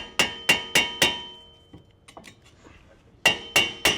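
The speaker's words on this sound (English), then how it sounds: "Grab a sledgehammer and just tap around this so you can free up the rotor" A sledgehammer taps around a stuck front brake rotor on a G35/G37 hub: four sharp metallic ringing strikes in even rhythm, a quieter pause with faint clinks, then three more ringing hits, loud and close.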